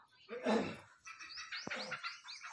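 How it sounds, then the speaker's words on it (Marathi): Several small birds chirp and trill in quick, bright bursts at dawn, close by, in a rural Konkan setting, with a rustling broadband noise early on and one sharp click midway. "भरपूर आवाज येते पाखरांचा."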